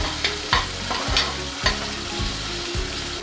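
Ginger garlic paste and curry leaves sizzle in a pressure cooker over a low gas flame, giving a steady hiss with rhythmic scraping strokes of a spoon about every half second, close and clear.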